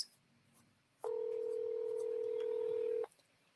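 A phone handset plays a single steady electronic tone for about two seconds while a number is called back. The tone is clear and isolated, with quiet background before and after it.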